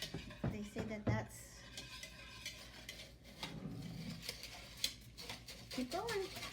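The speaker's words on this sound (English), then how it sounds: "we're just gonna add it in here and whisk" Snow being whisked into an ice cream mixture in a bowl during an after-Christmas snowstorm, with scraping and clinking of utensil against the bowl under ongoing talk.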